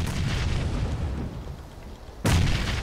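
A grenade explosion in a PUBG squad match lands as a sudden, loud, close boom with a deep rumble, cutting through constant background noise near the end.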